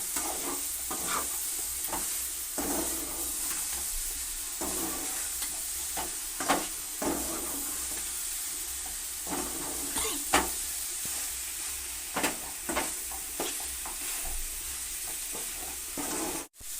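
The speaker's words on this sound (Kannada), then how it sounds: "ನೋಡಿ ಈ ಥರ ಉರ್ತಿದ್ದೀನಿ" Frying in a pan while cooking kuri laaki (sheep offal) in a Kannada home kitchen, a steady close sizzle broken by repeated scraping and stirring strokes of a ladle against the pan, with no talk.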